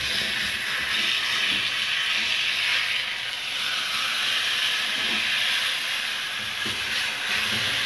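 A steady, broad hiss of steam escaping from a train fills the scene, with a low rumbling undertone and occasional soft thumps, constant and fairly loud throughout.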